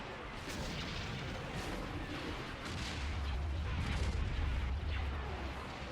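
Distant rumbling booms and artillery-like blasts as a space station comes under attack in the video game Empire at War, a steady, muffled bombardment with heavier low thuds building toward the end.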